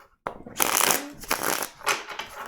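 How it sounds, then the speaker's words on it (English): Cards riffle and flutter in a few quick bursts, close and crisp, with short pauses between the shuffles. "2 more shuffles."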